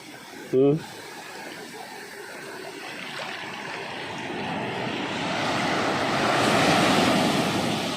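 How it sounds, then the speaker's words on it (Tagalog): Strong surf breaking on a clean beach in Bacon, Sorsogon at low tide, a steady broad wash of waves that swells louder toward the end, with a brief voice near the start. "Oh, napakalakas naman ng alon."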